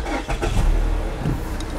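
The engine of a 2015 Mazda 6 cranks and catches, then settles into a loud, close, steady idle rumble.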